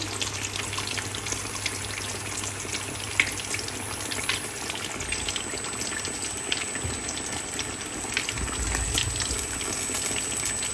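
Food fries in a pan with a continuous, close hiss of sizzling oil, steady throughout and broken only by occasional small pops.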